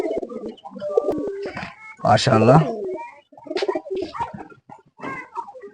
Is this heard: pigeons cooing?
yes